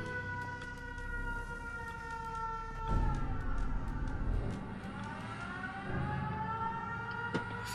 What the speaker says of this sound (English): Is that siren still going?